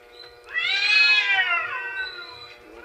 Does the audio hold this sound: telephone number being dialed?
no